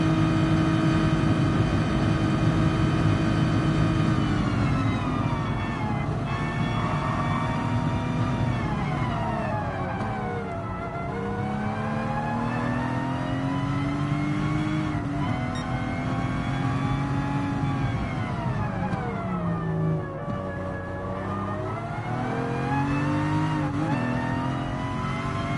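A 1954 Jaguar D-Type in the GT Sport racing game, its engine droning steadily throughout with rising and falling pitch as it accelerates, shifts gears and eases off, loud and close with no talking.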